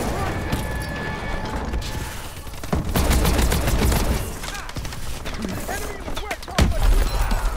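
OHM weapon gunfire in Call of Duty: Advanced Warfare, bursts of loud shots and impacts, densest in the middle, with a sharp blast near the end.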